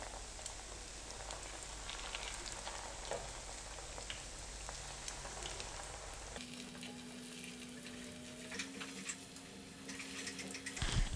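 Cauliflower koftas deep-fry in oil, a soft, fairly quiet bubbling sizzle like light rain that continues steadily, with a change in background hum partway through and no speech.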